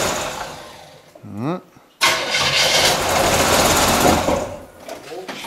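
Old Chevy engine cold starting after sitting for over ten years: a brief grinding crank is followed by a sudden catch at two seconds into a loud, rough, steady running roar, close by, with voices in the background.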